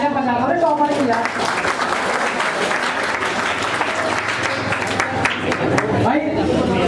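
Steady, dense applause from an audience cheering a top-scoring student at a coaching academy mega test, loud and continuous throughout with a little crowd chatter mixed in.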